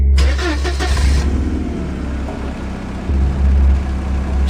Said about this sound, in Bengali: স্টার্ট দিল জিপ।